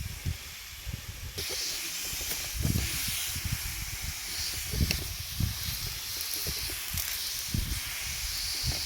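Coffee plants being sprayed with a sprayer, a steady close hiss running throughout, steady and fairly loud with no voices.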